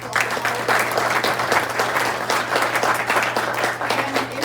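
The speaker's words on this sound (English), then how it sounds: "let's give them all a round of applause" A meeting audience applauds veterans, with steady, full clapping from a crowd at a constant level, joined by a low steady hum beneath.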